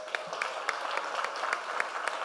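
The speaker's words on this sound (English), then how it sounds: "Give that a round of applause." A real estate masterclass audience in Orlando claps in a dense, even patter, with a few sharper individual claps standing out throughout.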